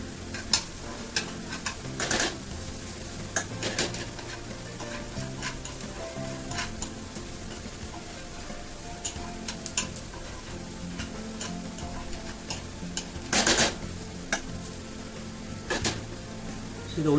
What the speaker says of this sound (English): We have to fry till it get kind of transparent or a little bit